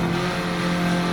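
A tuned 508 hp EK Honda Civic Type R in Gran Turismo 7 screams in first gear, a loud, sustained high-revving engine note with steady harmonics, short and alone.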